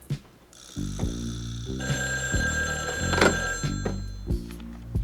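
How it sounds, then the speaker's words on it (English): An old-style telephone bell rings in repeated bursts, fairly close and clear, with a few dull thunks between rings. "This is a real phone call."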